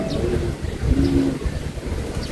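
A racing pigeon arriving at its loft after a long-distance race coos in low, soft bursts, with a few brief calls over a busy outdoor background.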